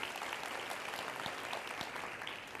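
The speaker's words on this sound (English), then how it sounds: "applause." Audience applause at a talk on women's health and leadership, a dense steady wash of claps lasting the whole moment at moderate volume, with no voices over it.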